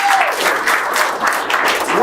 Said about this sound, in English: let's give a round of applause for our presenters here